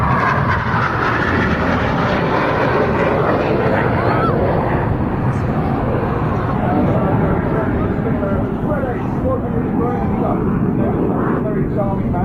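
Red Arrows jets at the Southport airshow roar past in a loud, continuous broadband rush that holds steady throughout, with a crowd or commentary murmur faintly underneath.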